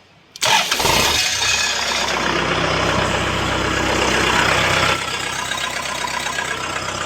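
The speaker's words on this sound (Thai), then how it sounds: "พอจี้ตรงนี้ก็จะสตาร์ทติดเลยนะครับ" A Kubota tractor diesel engine started without a key by touching wires at the starter terminals: a brief crank catches almost at once into a loud, close, steady rumbling idle that continues, slightly changing tone partway through.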